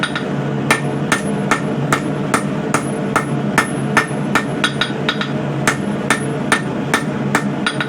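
Hammer strikes on a coil spring steel bar being forged and tapered, a steady series of sharp ringing blows about every half second, loud and close over a low shop hum.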